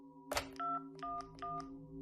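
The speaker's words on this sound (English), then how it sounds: "The man dialed 911 and told the operator that he needed police assistance immediately" Telephone keypad dialing 911: a burst of handling noise, then a short series of clear touch-tone beeps in quick succession, close and isolated.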